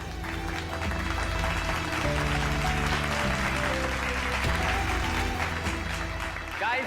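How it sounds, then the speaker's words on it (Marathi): An event audience applauds a couple in a steady, crowd-wide wave, with music playing and someone speaking over it throughout. "तर त्यांच्यासाठी एकदा जोरदार टाळ्या होऊन जाऊ द्या"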